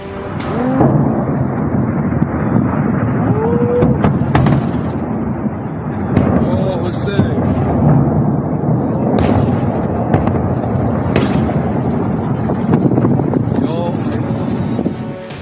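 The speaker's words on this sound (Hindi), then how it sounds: "लेबनान का बैरूत शहर धमाकों से दहल रहा है।" Explosions and missile strikes over Beirut, Lebanon, heard as a rolling series of deep booms and cracks with wind buffeting the microphone, some blasts sharper and nearer, others distant.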